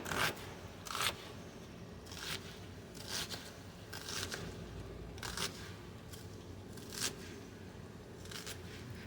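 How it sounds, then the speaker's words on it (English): A knife dices an onion on a cutting board in a home kitchen, giving a steady series of crisp crunching chops roughly every second, close and clear, with a low background hum and no talking. "And you're just going to slice it up,"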